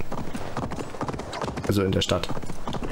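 Steady clip-clop of a horse's hooves while riding in Assassin's Creed Valhalla, a brisk even rhythm close by, with someone talking over it and a brief whinny-like sound midway.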